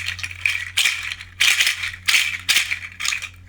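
Large seed pods shaken by hand give a lower, dry rattle in about six rhythmic bursts, close and clear over a steady low hum.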